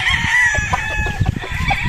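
A broodcock rooster crows loudly and close by in a breeding area, one strained crow lasting under two seconds, with faint background clucking.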